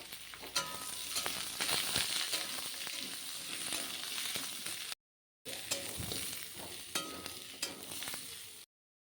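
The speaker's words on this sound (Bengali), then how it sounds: "ঢেলে দিয়ে আরেকটু ভেজে নেব।" Young jackfruit fries in hot oil in a pan for a Bengali prawn dish, crackling and sizzling close up with sharp spatters and stirring clinks, broken by a brief silent cut partway through.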